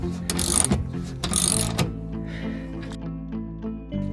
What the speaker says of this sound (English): Tighten up the bolt side, not the nut side.